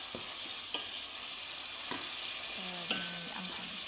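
Tuna with chili is stirred in a hot pan, a steady sizzle of frying under soft scraping strokes of a utensil, close by.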